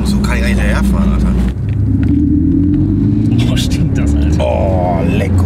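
A Porsche 718 Cayman S on new tyres with KW V3 coilovers revs hard under throttle, its engine roaring loud and close with a rising drone and pops as it accelerates, while people talk over it.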